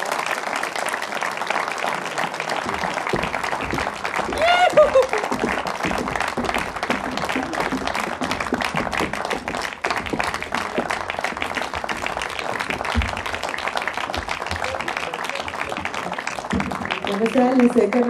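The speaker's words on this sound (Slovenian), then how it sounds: "Pa jih povabimo na oder z enim velikim aplavzom." Sustained audience applause welcoming a band onto an outdoor summer-evening concert stage at Žička kartuzija, dense steady clapping lasting throughout at a fairly loud level.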